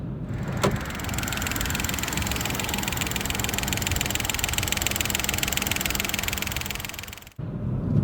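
Steady mechanical drone of a 2024 Dacia Duster engine running on LPG, an even rattling, whirring hum with a ticking texture, continuous and fairly close before cutting off abruptly near the end.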